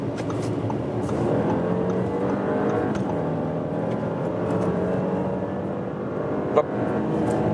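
A 3-liter V6 premium sedan accelerates from 70 to 120 km/h, its engine note rising smoothly beneath a constant rush of road and wind noise, heard from inside the cabin.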